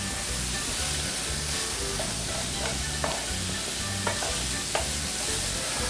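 Bacon fries and renders in a pan for Italian short ribs, a loud continuous crackling sizzle with a few sharp pops and utensil taps, no voices.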